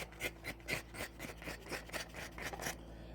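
Knife shaving fine finishing cuts on a green wood bread bowl, a series of soft, rapid scraping strokes close up with a steady rhythm and no talk.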